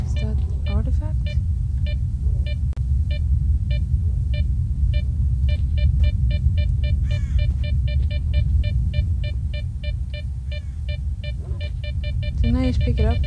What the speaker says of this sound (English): I thought the beeping was radiation, but there's no radiation number.